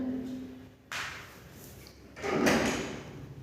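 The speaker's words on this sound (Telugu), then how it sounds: "మా డాడీ డోర్ వేశారుగా" A door is pushed shut at home, with a quick knock-like contact near the one-second mark followed by a louder closing thud and rattle about a second later, heard close and alone.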